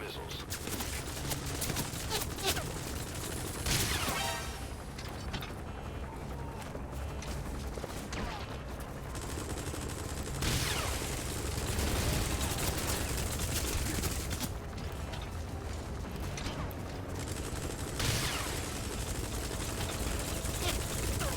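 Enemy gunship gunfire in Metal Gear Solid V: The Phantom Pain, repeated bursts of automatic fire mixed with game effects, loud and near, recurring throughout alongside intermittent voices.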